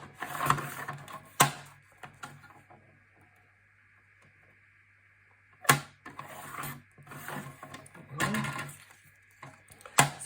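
A paper trimmer slices cardstock into two-inch strips in quick sliding strokes, with a short burst near the start and another cluster after a quiet pause; the sounds are close and fairly faint.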